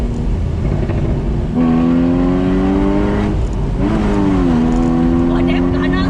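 The engine of a Porsche Boxster Spyder 981 revs from inside the cabin, with rising and falling pitch as it blips through downshifts, steady and close, while people talk over it.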